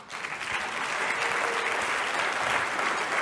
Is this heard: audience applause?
yes